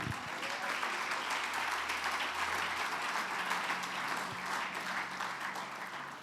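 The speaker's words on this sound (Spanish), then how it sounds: "Démosle un aplauso al Señor." Church congregation applause at an Iglesia Abba service fills the space as a dense, continuous wash of many hands clapping, moderately distant and even in level throughout.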